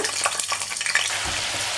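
Pieces of snakehead fish fry in hot oil with a dense, steady crackling sizzle, loud and close, and no voices.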